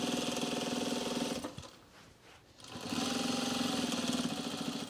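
A sewing machine stitching a sewn rug with its presser foot pressure lowered runs in a loud, steady rapid whir, pauses for about a second and a half, then resumes at the same pace, close up.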